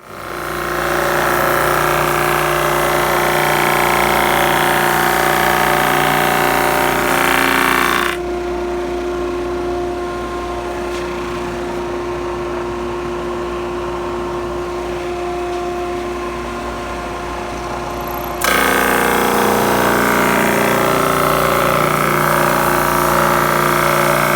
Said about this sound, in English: thickness sanding on this Performax sander here